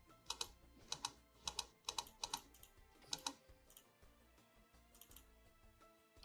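Computer keyboard clicked during editing, a rapid irregular patter of crisp close keystrokes in short bursts, quieter toward the end, with no speech.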